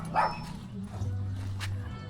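A large dog gives a brief bark, then a low growling rumble carries on through the rest, with some background voices.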